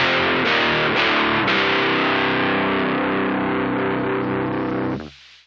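Electric guitar played through a Cypress TT-15 amp sim with the volume knob turned down, a crunchy, lightly distorted chord that rings out and sustains for several seconds before being cut off abruptly.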